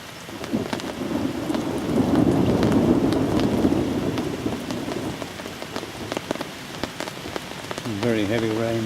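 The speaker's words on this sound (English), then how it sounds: "You can hear the thunder rumbling around." Low, rolling thunder rumbles through steady heavy rain drumming on a surface beside the River Swale, with occasional sharper drips and a voice starting up at the very end.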